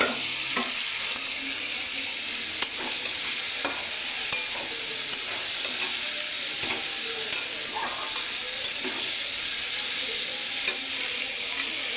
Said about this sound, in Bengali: লাউ আর আলুটা ঢেলে দেব।